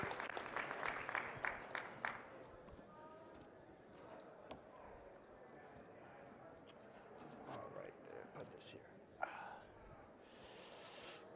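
Audience applause at a sports analytics conference greets a speaker taking the stage; a short burst of clapping fills the first two seconds, then thins into quiet room murmur and faint shuffling.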